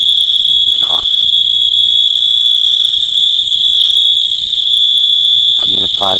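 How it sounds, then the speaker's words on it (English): A fire alarm sounds continuously as a loud, piercing high-pitched tone that holds steady throughout, with brief rustling and faint background noises underneath. "the fire alarm just went off"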